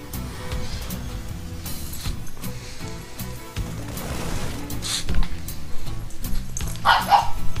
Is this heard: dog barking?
yes